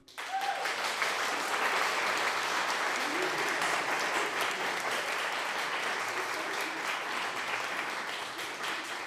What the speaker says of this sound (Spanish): podríamos darle un aplauso ahora mismo y darle la bienvenida a nuestros 3 invitados al escenario